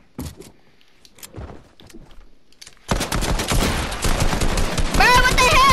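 Pistol fire in a video game starts after a few quiet, sparse clicks and soft knocks, then breaks into a loud, rapid string of shots that keeps going to the end.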